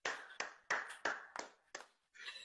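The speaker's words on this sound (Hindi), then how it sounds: "एपिक तालियां" Seven sharp, separate handclaps land at a loose, uneven rhythm at a meetup, each crisp and close with a short decay; quiet overall, with a brief rustle at the end.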